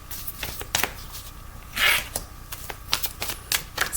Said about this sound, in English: Just give them a good old shuffle here, and we'll try and take about 3 cards